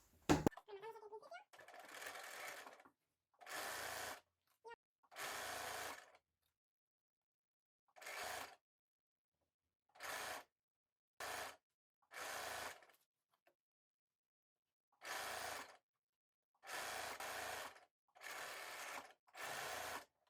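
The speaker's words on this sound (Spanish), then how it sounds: "cosemos la sisa entera a 1 centímetro de costura, rematando al principio y al final" A domestic sewing machine stitches the armhole seam of a short-sleeved jersey T-shirt in repeated short bursts of rapid mechanical whirring, separated by quiet pauses, close and fairly soft.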